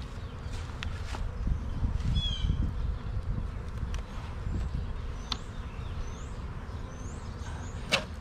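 Honey bees buzz around an opened hive in spring, a faint, scattered hum with brief nearby fly-bys over quiet rustling and handling noises.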